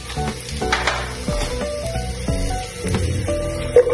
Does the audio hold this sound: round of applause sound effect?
no